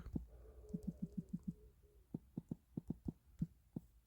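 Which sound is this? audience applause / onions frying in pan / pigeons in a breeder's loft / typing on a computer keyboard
typing on a computer keyboard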